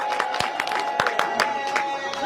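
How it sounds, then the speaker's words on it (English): A crowd at a Ghanaian political rally claps for the women, sparse, uneven claps over a low murmur of voices and a sustained background tone, fairly quiet. "So let's clap for the women first."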